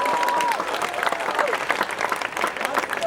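An audience applauds at a live music event honouring performers, dense steady clapping filling the space while a voice talks over it.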